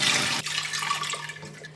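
Water rushes hard into a pot at first, then settles into a steadier, lighter pour with a low hum underneath, close by.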